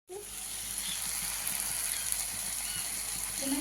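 Leafy greens sizzle in a pan with salt and turmeric, a steady, close frying hiss that runs evenly throughout with no talking.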